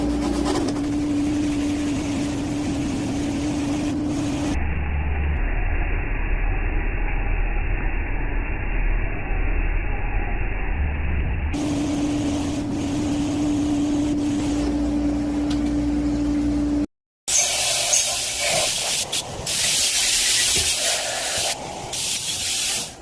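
A steady machining whine and hiss with a sustained tone, from spot facing a metal boss on a cylinder head, drops out midway, then resumes before a harsh broadband grinding noise takes over near the end.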